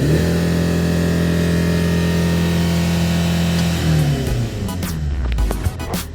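A 2005 Hyundai Santa Fe diesel with automatic transmission holds a steady loud rev, then drops back toward idle with a rough, rumbling settle near the end, close up and with no talk.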